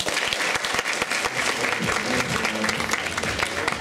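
An audience at a talk applauds, a dense run of close, loud hand claps with a few sharp individual claps, and a voice speaking briefly under the clapping toward the end.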